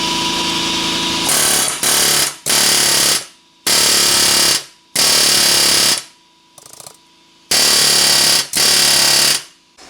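Loud bursts of a pneumatic hammer hitting a stubborn ball joint on a Ford Fusion, in repeated stretches of one to two seconds, separated by short quiet gaps, close up.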